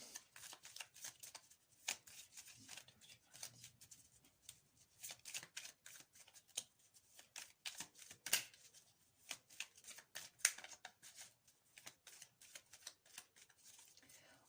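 A deck of tarot cards is shuffled close by, with quiet, fast riffling and rapid flicks that come in irregular bursts and soft slaps. It stays faint throughout.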